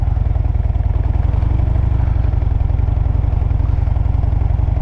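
Motorcycle engine running at low, steady revs while the rider makes slow, full-circle U-turns, working the clutch and throttle. It gives a close, loud, even thumping putter with a rapid rhythmic pulse throughout.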